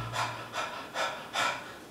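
A person imitates a dog panting after running or in heat, with four evenly spaced, breathy huffs that are close and fairly loud.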